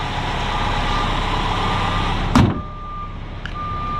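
Noisy trucks rumbling nearby with a reversing beep sounding, a loud engine drone that cuts off abruptly with a thump, followed by quieter idling and a steady high electronic beep.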